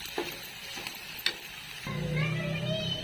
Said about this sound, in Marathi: कांदा पण भाजत आलाय